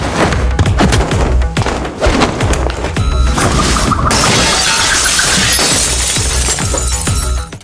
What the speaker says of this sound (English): the sound of glass shards cracking beneath his feet